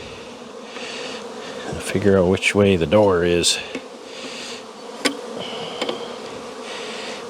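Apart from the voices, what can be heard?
honey bees buzzing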